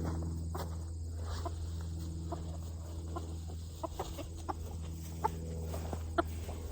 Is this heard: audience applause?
no